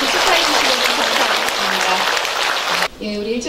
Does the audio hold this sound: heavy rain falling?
no